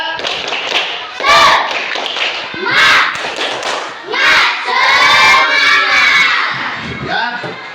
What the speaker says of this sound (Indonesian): Nah, sekarang tepuk semangat.